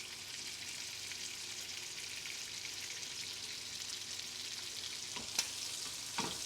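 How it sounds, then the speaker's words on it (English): Shrimp sizzle steadily in a pan as prawns and asparagus cook for a scramble, a dense continuous hiss with a couple of brief sharper pops near the end, no talking. "Let me finish cooking the shrimp."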